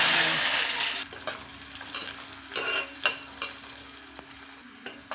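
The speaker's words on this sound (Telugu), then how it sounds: "ఆయిల్ బాగా వేడెక్కిన తర్వాత జీలకర్ర వేసుకుందాము ఉప్పు దినుసులు ఎండుమిర్చి వేస్తున్నాను" Cumin seeds and dried chillies frying in hot oil, with a loud burst of hissing sizzle at the start that settles into softer crackling and a few scraping stirs.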